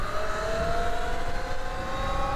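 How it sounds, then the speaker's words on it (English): Two E-Ride Pro electric dirt bikes, a Pro S and a Pro SS, running side by side at full throttle, giving a steady high motor whine with rising tonal lines over wind rush, with no talk. "Let's do a full throttle right next to each other."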